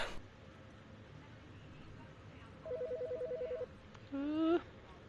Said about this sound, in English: The fucking phone.